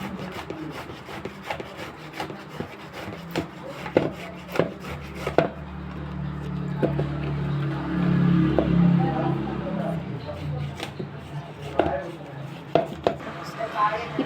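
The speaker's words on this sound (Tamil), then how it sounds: "சீவிக்கலாம் உருளைக்கிழங்கு" Potatoes being sliced on a wooden board for potato balls, a run of crisp, evenly spaced chopping taps with rubbing and scraping in between, close up, with someone speaking over part of it.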